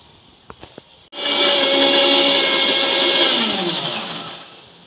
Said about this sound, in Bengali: এবার জারের ঢাকা বন্ধ করে খুব ভালো করে মিক্সিতে ব্লেন্ড করে নেব।